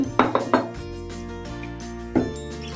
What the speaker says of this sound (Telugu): పాలు యాడ్ చేసుకుంటూ మిక్స్ చేసేస్తాను అన్నమాట.